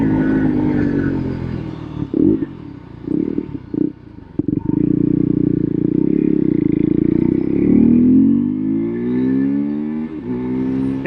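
A Husqvarna Svartpilen 401 motorcycle with a 373 cc engine is ridden hard, its loud, close engine note rising and falling through gears with brief dips between shifts, and no voices.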